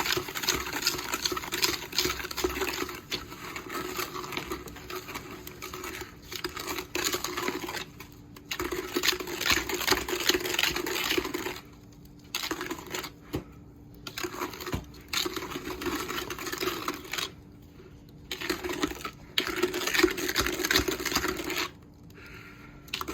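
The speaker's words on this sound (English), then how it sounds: "I'm gonna whisk the eggs and the sugar together." Eggs and sugar are beaten together with a whisk in a bowl for a white chocolate bread pudding, giving close, rapid rhythmic clinking and tapping in bursts separated by brief pauses, with no talking.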